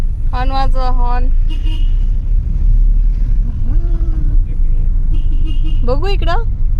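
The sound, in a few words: car horn honking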